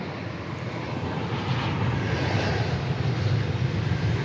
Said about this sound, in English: Flight 2581 to Milwaukee, 737-800 is what you see staring you down there.